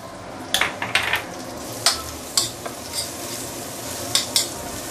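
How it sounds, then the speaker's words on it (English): Aromatics sautéing in a pan for a jade perch fish dish: a steady sizzle punctuated by a series of short, clinking stirs of a utensil against the pan, close and without talk. "We just need to saute this to bring out the fragrance."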